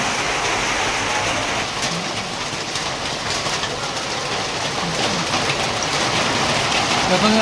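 Heavy monsoon rain falls in Daringbadi, a loud, dense, unbroken hiss of downpour on surfaces that stays steady throughout, close by and with no voices.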